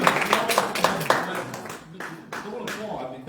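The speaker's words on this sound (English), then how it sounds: "Don't applaud" Scattered applause at a township board meeting in Lockport Township, Michigan, a short burst of uneven hand claps from a small audience that thins out over a few seconds.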